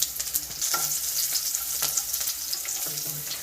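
Sliced garlic cloves frying in hot oil with popped mustard seeds for a thick fish curry: a steady, bright sizzle with small crackles and occasional stirring scrapes, close and unbroken.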